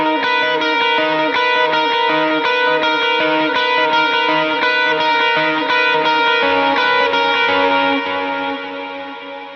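An electric guitar plays a lead with an overdrive effect, a sustained distorted tone with rapid repeated notes and chorus-like shimmer, loud and continuous, fading slightly at the end.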